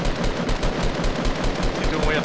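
Rapid automatic gunfire from a Fortnite match, a dense, continuous burst of shots at an even rhythm aimed at a built bridge, loud and close with game ambience beneath.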